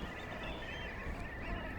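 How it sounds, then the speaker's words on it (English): A dense flock of wetland birds in the Lower Saxony Wadden Sea calls continuously, overlapping goose-like honks and cackles forming a steady chorus at moderate distance. "These wetlands accommodate up to 12 million birds in spring and autumn."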